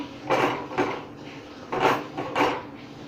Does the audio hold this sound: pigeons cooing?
no